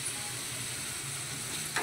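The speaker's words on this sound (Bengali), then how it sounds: "এই যে অল্প লঙ্কা গুঁড়ো, তো কালারের জন্য দিয়ে আমি আবার ভালো করে এটা কিন্তু কষিয়ে নেব" Masala with a little chilli powder sautéing in a pan, a soft continuous sizzle and hiss close by, quiet and steady with a brief stir scrape at the end.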